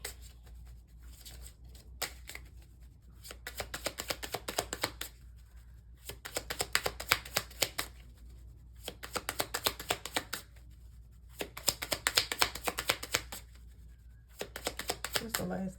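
A deck of cards is shuffled in repeated riffling bursts a few seconds apart, crisp and close, with a person speaking softly between them.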